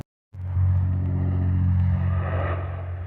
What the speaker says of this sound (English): Demo derby car.